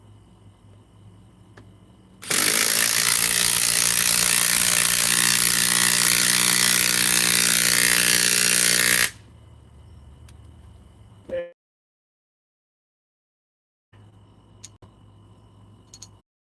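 DeWalt power tool running steadily at full speed for about seven seconds, a loud, bright, constant whine that starts and stops abruptly amid quiet ticking background noise.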